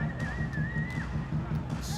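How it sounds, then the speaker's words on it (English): A referee's whistle in the NBA 2K21 basketball video game sounds as one sustained shrill tone lasting about a second, over a rhythmic thumping game soundtrack and crowd noise. "he gets the whistle for the 3-second call"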